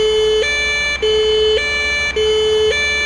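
An ambulance siren wails loud and close while driving through traffic in the game A Paramedic Simulator, alternating between two pitches in a regular repeating cycle with no talk over it.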